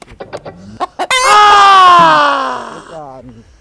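A chicken calls out with a long, loud, rising-and-falling squawk, led by several short clucks; voices talk briefly before and after.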